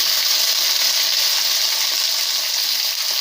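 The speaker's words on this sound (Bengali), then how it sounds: "এবার দিয়ে দেব পেঁয়াজগুলো।" Chopped onions hit a hot pan for chilli chicken, giving an even, loud hissing sizzle that holds steady from start to finish with no talking.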